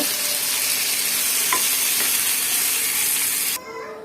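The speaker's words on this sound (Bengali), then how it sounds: "দিয়ে সুন্দর করে এগুলো মাখিয়ে নেব এর সাথে মিক্স করে নেব" Pointed gourd and potato being stirred and fried in a pan, a steady loud sizzle with faint scraping of the spoon, cutting off abruptly near the end.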